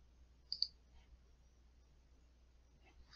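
Computer mouse clicks while setting up a security policy in software: two quick, quiet clicks close together, then a single click near the end, against a low steady background hum.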